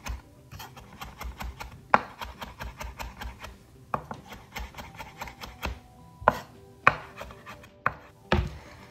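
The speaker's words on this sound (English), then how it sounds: "So I'm doing here the rock chop. Giving it a good chop." Basil leaves rock-chopped with a knife on a board, a close, steady run of rapid tapping chops that pauses briefly and then resumes in quick bursts, with no voice.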